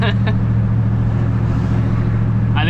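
A Chevrolet squarebody pickup's exhaust drones loud and steady from inside the cab while driving, a continuous low rumble throughout with a brief voice at the start and end.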